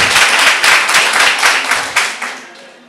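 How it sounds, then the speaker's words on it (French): Audience clapping for the negative team after scores are announced at a debate competition, a dense burst of many hands that thins and fades over about three seconds. "On applaudit le camp négatif."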